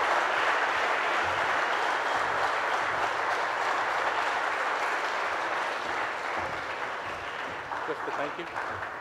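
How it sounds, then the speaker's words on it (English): Applause from a ceremony audience fills the scene as a dense, steady wash of clapping that holds for about nine seconds and eases slightly toward the end. "Let's give them all a round of applause."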